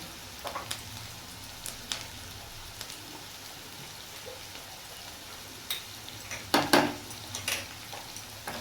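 Ginger-garlic paste with turmeric and salt stirred in a pan, soft scraping and a faint sizzle with a few sharper clinks of the spoon against the pan toward the end.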